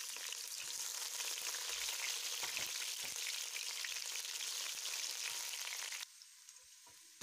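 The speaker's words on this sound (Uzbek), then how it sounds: "Va piyozimizni solib yaxshilab qovurib olamiz." Chopped onions sizzle and crackle steadily in hot vegetable oil in a pot, a continuous close-up frying hiss that drops to a much quieter simmer near the end.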